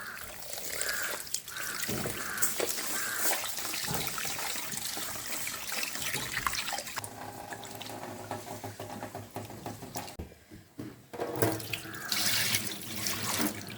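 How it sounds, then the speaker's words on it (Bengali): Water runs and splashes as Gobindobhog rice and mung dal are rinsed in a kitchen, a close, continuous pouring and swishing with brief dips and surges as the grains are stirred. "এটাকেও জল দিয়ে একটু ধুয়ে নেবো"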